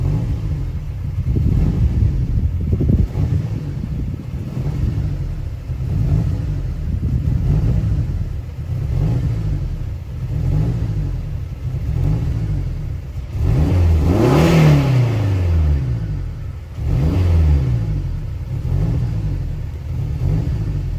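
Turbocharged Honda Element engine surging and revving close up, the pitch rising and falling in uneven swells with a burst of higher revs in the middle, suspected vacuum leak.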